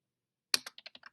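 Six crisp keystrokes on a computer keyboard tap out in a quick, slightly uneven burst, close and clear, with the first press loudest and silence before it.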